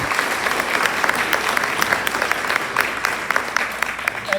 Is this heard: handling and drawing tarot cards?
no